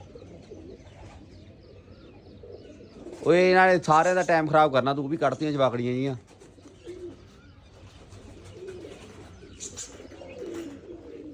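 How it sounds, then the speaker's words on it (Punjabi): Domestic pigeons coo softly in a rooftop loft while someone speaks loudly for a few seconds over them, the low cooing carrying on faintly before and after. "ਲੋ ਵੀ ਕਬੂਤਰ ਹੀ ਕਬੂਤਰ ਹੀ ਕਬੂਤਰ ਹੀ ਕਬੂਤਰ ਹੋਏ ਪਏ ਨੇ"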